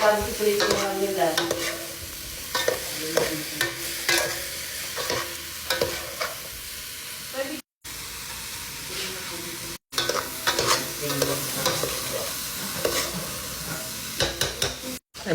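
Food frying and being stirred in a pan, with steady sizzling and repeated scraping strokes throughout, brief gaps of silence between.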